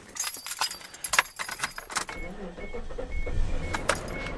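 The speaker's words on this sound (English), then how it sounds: "Car did not want to start there for a second." Car ignition sequence with keys jangling near the start, then a starter cranking that catches into a low, faltering engine idle, close up and without talk.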